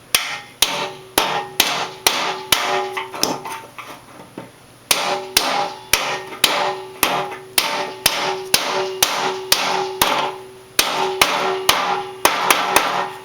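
Repeated sharp metallic hammer strikes tapping a bearing onto a mower spindle, close and loud, falling in a steady rhythm of quick blows with a few short pauses between runs.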